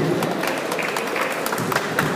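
An audience at a music video launch for an Odia film applauds in a dense, continuous wash of clapping that stays at an even level throughout.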